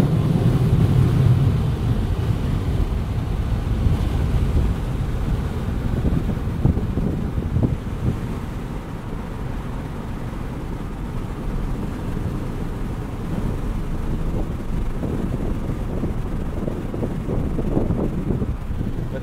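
Loud, constant wind buffeting roars through a 2020 Jeep Wrangler Unlimited Rubicon EcoDiesel driving with the top open, heavy low rumble and gusty fluttering throughout with no talking.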